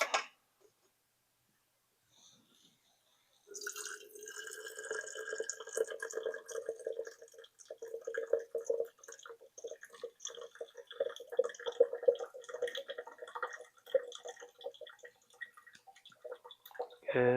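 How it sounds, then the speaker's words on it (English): Liquid drained from a pan of tater tot pizza casserole filling, a brief quiet start and then a continuous trickling, dripping stream that pours fairly close for most of the clip. "I'm going to go ahead and drain this."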